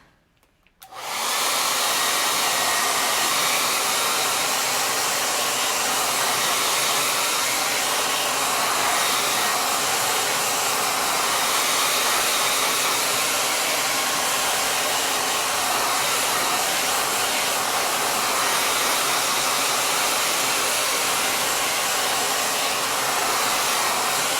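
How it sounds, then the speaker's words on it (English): A hair dryer switches on after a brief quiet moment and runs at a loud, steady whooshing roar for the rest of the clip. "So bear with the blow dryer noise."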